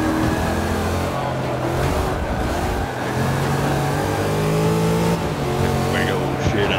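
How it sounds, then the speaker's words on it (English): Engine noise from a car painted in a KISS Ace Frehley design, a steady loud drone with harmonic hum running throughout, with talking mixed in over it. "it gets drowned out by the engine sounds"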